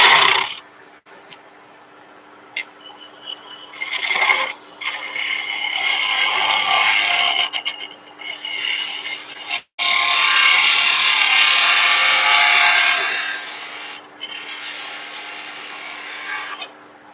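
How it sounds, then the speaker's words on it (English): Woodturning gouge rolling to cut a bead on a spinning birdhouse blank at a woodturners' club meeting, a steady loud shaving hiss that swells and fades in long passes, with one brief break, and no talk. "Just rolling the gouge to make a nice bead here."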